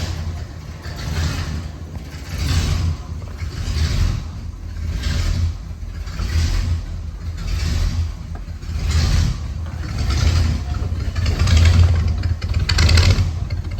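A 1965 Chevrolet Impala Super Sport convertible engine runs steadily with its AC compressor engaged, a loud low rumble that swells and eases in a regular rhythm.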